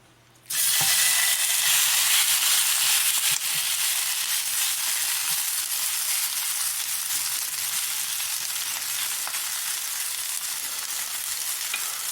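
Corned beef hash sizzling loudly in a frying pan, starting abruptly as it hits the hot surface and then holding a steady, bright hiss with light stirring scrapes.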